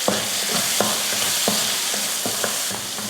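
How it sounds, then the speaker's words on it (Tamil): Small chopped onion, one large onion cut fine, sautés in a pan for an egg curry, a steady close sizzle broken by regular clicks and scrapes of a spoon stirring every half second or so. "இப்போ வெங்காயத்தை வதக்கிக்கலாம்."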